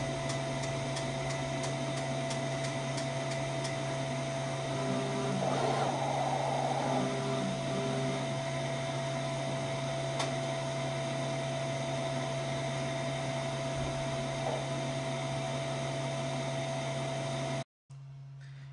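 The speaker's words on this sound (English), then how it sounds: "But we first have to wait for that nozzle check to print." A Roland BY-20 DTF printer printing a nozzle check gives a steady mechanical hum with a constant tone for about seventeen seconds, with faint carriage movements partway through before it stops abruptly.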